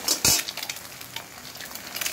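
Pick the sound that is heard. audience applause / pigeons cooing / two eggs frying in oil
two eggs frying in oil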